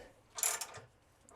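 A short mechanical ratcheting burst as a wrench tightens 7/16-inch locking nuts onto 5/16-inch U-bolts while installing a tongue box on a 2022 Runaway Rangerunner trailer, close and fairly quiet.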